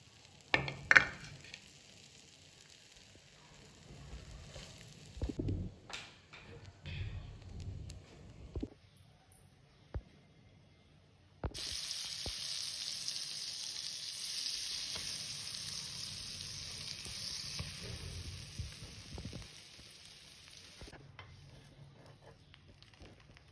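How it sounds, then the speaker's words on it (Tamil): Bread slices toast in butter in a pan for shahi tukda, a soft sizzle with occasional scrapes and taps, then a loud steady frying hiss that holds for several seconds before fading back. "ப்ரெட்டை டோஸ்ட் பண்ணிக்கலாம். பட்டர் போட்டிருக்கேன். 2 பக்கமும் டோஸ்ட் பண்ணி எடுத்துக்கலாம்."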